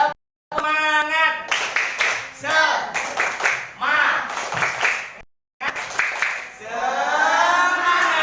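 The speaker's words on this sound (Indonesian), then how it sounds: "Tepuk semangat." Students in a classroom do a rhythmic spirit clap in quick patterned bursts, led by a teacher, with voices chanting and shouting between the claps and brief silent gaps.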